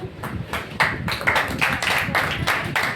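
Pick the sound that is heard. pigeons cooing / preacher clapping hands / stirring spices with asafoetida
preacher clapping hands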